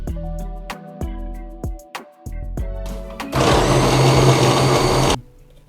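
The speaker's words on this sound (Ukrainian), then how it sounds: "Нам треба буде взяти і все це перемішати." A kitchen blender whirs loudly and steadily for about two seconds, mixing sugar-free dessert ingredients, after a series of clunks and knocks as it is set up.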